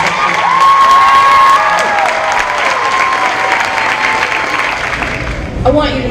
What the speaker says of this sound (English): Please give a round of applause for